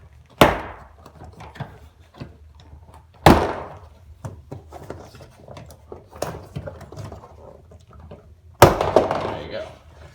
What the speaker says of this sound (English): So you hear that? That's just the clip separating.